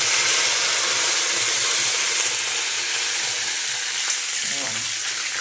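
Curry leaves sizzling in hot oil in an iron kadhai while cooking a village-style potato amti, a loud, dense, continuous crackling fry heard up close without any voice.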